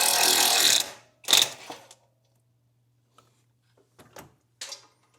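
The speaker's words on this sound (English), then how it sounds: "That's my bolt you heard rattling around." A Hercules compact half-inch impact wrench hammers loudly for under a second, fires a second short burst, then a loosened bolt rattles and clinks in a few faint, scattered taps before a last small clatter.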